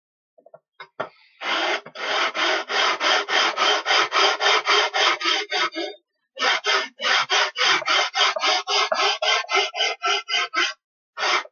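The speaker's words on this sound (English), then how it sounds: "We do this with a sanding block." Wood is sanded with a sanding block in quick, regular back-and-forth strokes, close and loud, with a short pause midway before the rasping resumes, smoothing the bottom of a wooden camping chuck box.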